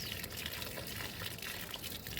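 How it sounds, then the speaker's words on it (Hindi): Water is poured onto the soil of potted plants outdoors, making a steady splashing gush that continues throughout at a moderate level with no voices. "थोड़ा थोड़ा गीला कर देती हूँ इनको"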